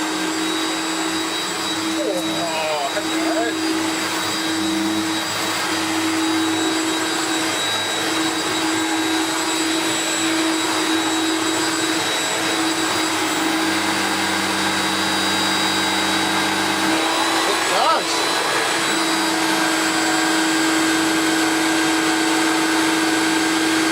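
A refurbished Hoover Turbopower 3 U2876 upright vacuum cleaner runs steadily and loudly on carpet, a constant motor whine and airflow roar with a brief shift in pitch partway, and a voice speaking faintly at times.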